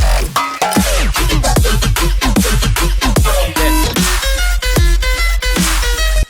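A dubstep growl bass churns through choppy, wobbling synth stabs over a heavy low thump, loud and dense with no voices.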